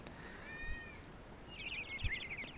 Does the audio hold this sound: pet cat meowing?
yes